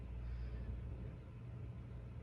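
Race cars in the iRacing ARCA Daytona 200 roll past as a steady low engine rumble, a continuous drone with no distinct pass-by peak and no voices.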